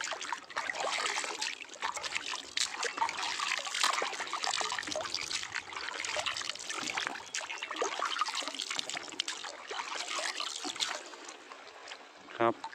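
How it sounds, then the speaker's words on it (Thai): Hand dipping into the cold water of the Salween River at Ban Mae Sam Laep, a steady close trickling and sloshing that runs throughout, ending with a brief louder splash. "เดี๋ยวเราจะไปจุ่มมือลง ดูว่าน้ำสารวินเป็นยังไงบ้าง"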